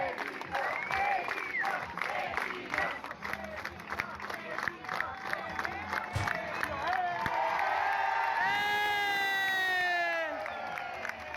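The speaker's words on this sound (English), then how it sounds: "people will clap together to make attention until the parent hears them and arrives" A crowd on a beach in Brazil claps together in rhythm amid cheering and shouting voices, a lively burst of applause that later gives way to louder whoops.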